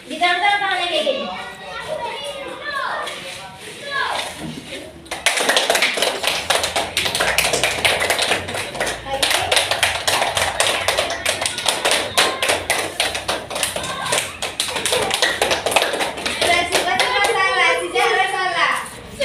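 Children clapping their hands together in a group game during a school group-guidance session, a burst of rapid, loud, irregular claps after a brief pause, with children's voices chattering underneath.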